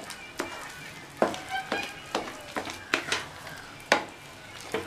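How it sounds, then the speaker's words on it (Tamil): A sweet mixture with cooked, ground chana dal is stirred in a pan over medium flame for a Diwali sweet, giving a series of close, distinct scraping and clinking strokes at an uneven rhythm over a faint sizzle. "அந்த கடலப்பருப்பை சேர்த்துக்கலாம். சேர்த்துட்டு நல்லா ஒன்று போல் கிண்டிக்கணும்."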